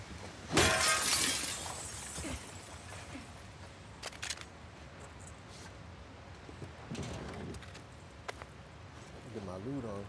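Glass shattering in the video game The Last of Us Part 2: one loud, sharp crash near the start with a spray of tinkling fragments, followed by quieter rustling, footsteps and scattered small clinks in the game's ambience.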